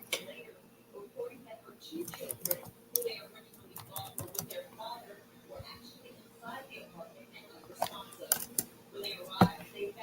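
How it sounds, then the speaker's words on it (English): Quick, irregular clicks of typing on a computer keyboard, close and fairly quiet, with a few louder key strikes, under a person speaking during a livestream. "I'm just thinking while I'm typing."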